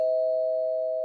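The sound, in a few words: doorbell sound effect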